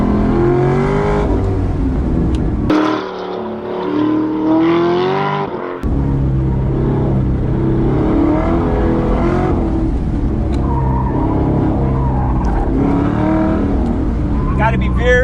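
LS3 V8-swapped Mazda ND Miata accelerating on a race track, a loud, steady engine drone with rising revs that runs throughout, heard from inside the car, with someone talking over it.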